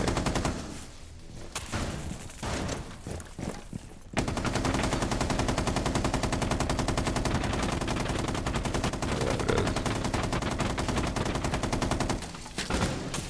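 Sustained automatic gunfire in a first-person shooter game, loud and continuous with rapid repeated shots filling most of the stretch after a brief quieter opening.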